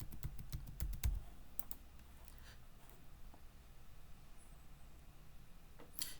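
Login user ID and password being typed on a computer keyboard, a quick cluster of close, light key clicks at the start, then sparse isolated taps against quiet room tone.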